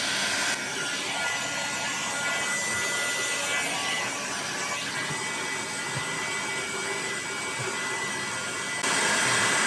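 A heat gun heating a rubber mud flap on a DR650 motorcycle, blowing with a steady loud whooshing hiss from start to finish with slight fluctuations, close by and without talk.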